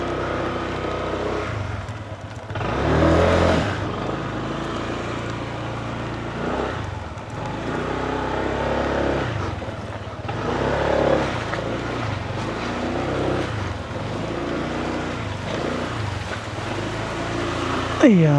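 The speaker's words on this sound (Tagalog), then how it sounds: "Ayan, ipasok na po natin yung ating motor." Motorcycle ridden into a mini farm in the rain, its engine idling and revving in uneven surges close by, while a person talks over it throughout.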